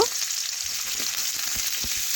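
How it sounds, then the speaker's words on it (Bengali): Chopped onion fries in hot oil with whole cumin seeds, a close and steady sizzling hiss with soft periodic stirring scrapes. "পেঁয়াজ একটু নাড়াচাড়া করে লাল লাল অবধি ভেজে নেব"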